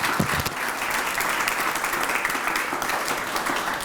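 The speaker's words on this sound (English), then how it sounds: "Let's give a big round of applause again for Pat Sylvester." Sustained audience applause fills the room at a housing program signing ceremony, steady and dense clapping from a crowd with no gaps, fairly loud and close throughout.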